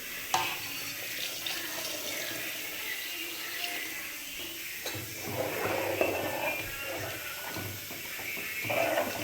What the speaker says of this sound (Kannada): ನೀರು ಉಯ್ಕೋತಾ ಇದ್ದೀನಿ.